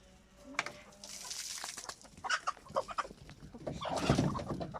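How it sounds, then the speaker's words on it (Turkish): Several chickens clucking and squawking close by as leftover bread is tossed to them, busy overlapping calls with scratching and rustling, getting louder toward the end. "kalan ekmekleri şimdi tavuklara dökecek"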